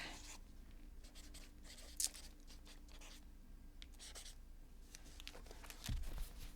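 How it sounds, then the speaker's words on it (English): A pen scratches across a page in quiet, irregular strokes, soft and close, with a small tap partway through. "I'm going to write it down right now"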